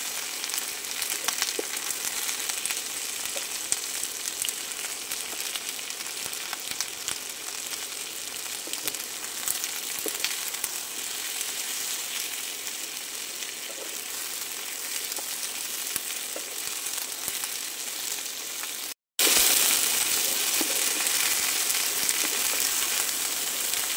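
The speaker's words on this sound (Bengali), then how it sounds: "সব একসাথে কিন্তু আমি ভাজবো।" Cauliflower fries in a pan with a steady, even sizzle that continues unbroken, then cuts out briefly before resuming somewhat louder; no voices.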